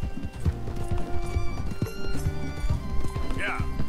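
A horse in Red Dead Redemption II gallops with loud, rhythmic hoofbeats close up, and a brief whinny near the end, while a player talks over it.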